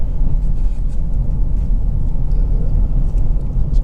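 A Nissan Qashqai 1.6 petrol car drives along, its engine and road noise forming a steady, close, low rumble with no distinct changes.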